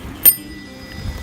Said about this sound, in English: If the bell rings like